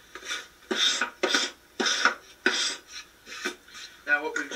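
A wooden board is scraped with a tool to distress it, producing a series of close, gritty scraping strokes in an even rhythm, with a small metallic clatter at the end.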